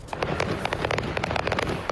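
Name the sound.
fireworks exploding from an RV fire near Houston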